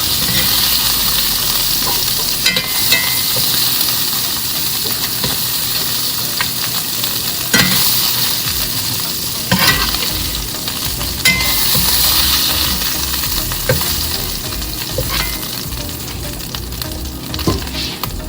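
Steak pieces sizzle loudly and steadily in a hot skillet while being scooped out for beef stroganoff, with scraping and stirring clicks over a continuous close frying hiss.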